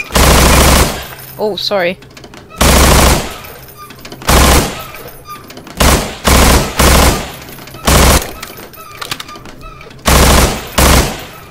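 Loud, sharp gunshot bursts at a shooting gallery in the game Estranged, fired in short clusters with brief pauses across the whole stretch; a voice speaks briefly between early shots.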